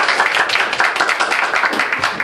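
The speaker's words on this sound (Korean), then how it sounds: "박수 한번" An audience at a seminar claps in a short burst of applause, a dense, even patter of many hands lasting a couple of seconds.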